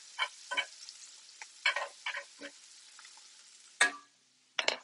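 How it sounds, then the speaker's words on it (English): Mushrooms fry in a pan while tongs stir them, producing short bursts of sizzle and scraping that come and go in irregular clusters with quiet gaps between, the loudest bursts near the end. "We can use our tongs, give the mushrooms a little stir."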